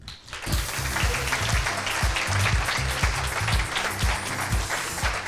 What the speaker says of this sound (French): Merci d'applaudir et d'encourager Mathilde Champeau.